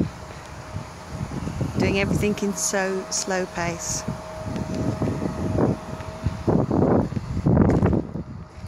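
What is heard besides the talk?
wind noise on microphone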